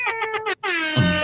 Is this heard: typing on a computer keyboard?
no